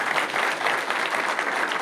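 Audience applause for a speaker at a Roma community gathering: a continuous, moderately loud patter of many clapping hands, even and unbroken throughout.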